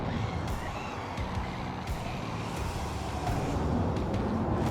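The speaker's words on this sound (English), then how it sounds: "I apologize for the traffic noise." Steady, constant road traffic rumbles and hisses throughout from under a bridge, with vehicles passing at a moderate distance and no voices.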